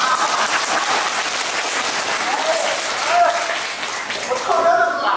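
Dense, sustained applause from a theatre audience at a Deyun She xiangsheng (crosstalk comedy) matinee in Nanjing. The clapping stays loud and steady throughout, swelling slightly toward the end, with voices mixed in.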